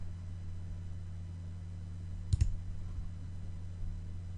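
A quick double click of a computer mouse while navigating vehicle inspection software, two close, sharp clicks over a steady low hum, with otherwise quiet surroundings and no talking.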